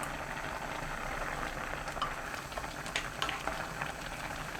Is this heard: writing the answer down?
no